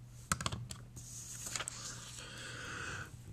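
A computer keyboard is typed on in a quiet room, with a few quick clustered keystrokes at first, then scattered taps over a faint steady hum, soft and close.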